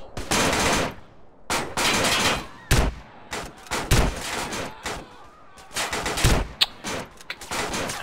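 Shotgun blasts and gunfire from the video game GTA San Andreas, loud broadband bursts in an irregular run of about eight shots, some long and rolling, others short and sharp, with no talk over them.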